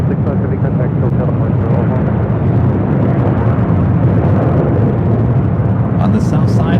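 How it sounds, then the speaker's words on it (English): A Boeing Dreamliner airliner arriving at LAX on runway 25 left, heard as a steady, loud broadband jet roar that fills the whole stretch without letup, with no voices over it. "the Dreamliner coming in from Warsaw, arriving on 25 left."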